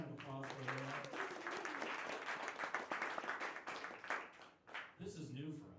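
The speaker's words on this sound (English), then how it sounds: "Big round of applause for her." A crowd applauds with dense, sustained clapping that tapers off near the end, with a voice speaking briefly at the start and again after.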